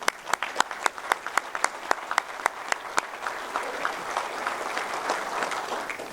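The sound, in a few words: round of applause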